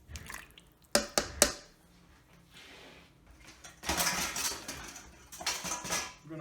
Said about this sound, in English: And so we give that a bit of a stir.